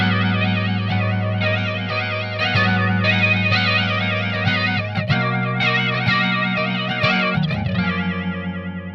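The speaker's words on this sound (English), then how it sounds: "And this is a flanger." An electric guitar through a flanger effect on a Boss Katana Artist MKII amp head plays sustained chords with a sweeping, whooshing modulation, loud and up front, fading slightly at the end.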